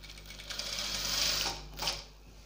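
A sewing machine runs a steady whirring stitch along a kurti seam for about two seconds, close and continuous, then gives a brief second burst before stopping.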